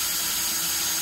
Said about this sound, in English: drill you a little hole.